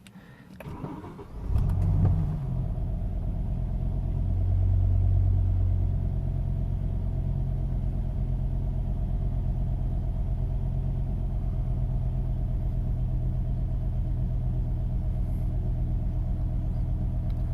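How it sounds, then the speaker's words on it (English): A 2005 BMW M5 with the S85 engine, its covers and intakes off and a misfire being chased, cranks briefly and catches. It then settles into a steady, loud, even idle rumble that runs on alone. "Okay, that's gonna start the engine."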